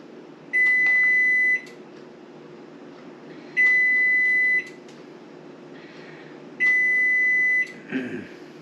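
A kitchen oven signals that preheating is done with three long, steady electronic beeps spaced about three seconds apart, loud and close, with a faint background hum and no talking.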